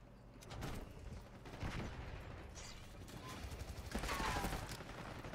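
Gunfire in Black Ops 6, an SMG firefight with dense bursts of shots and clattering weapon mechanics at moderate loudness, continuous throughout with a brief voice.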